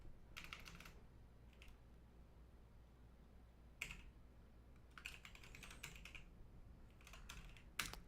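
Quiet, distant clatter of a computer keyboard being typed on, in several short bursts of rapid keystrokes separated by pauses, with no talking.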